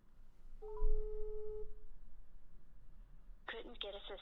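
A telephone call tone plays when dialling a number: a steady held electronic tone of about a second, then a burst of higher electronic beeps near the end over faint room noise.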